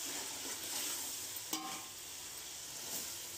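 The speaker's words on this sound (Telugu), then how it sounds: "ఇది కూడా గోల్డెన్ కలర్ వచ్చే వరకు ఫ్రై చేయాలి ఫ్రెండ్స్" Small-onion and ginger paste sizzles in hot oil in a pan, a steady soft hiss with one faint stir or scrape partway through, quiet and without speech.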